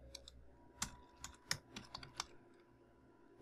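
Typing code on a computer keyboard, a quiet, close series of irregular key clicks and taps with short pauses between bursts.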